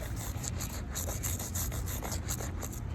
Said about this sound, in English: I'm just gonna be moving it back and forth like this, and then scrubbing it with the toothbrush